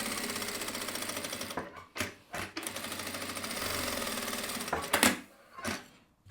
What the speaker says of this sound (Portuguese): E vou passar uma costurinha de segurança aqui, ó, para prender esse meu forro e tirar todo esse excesso.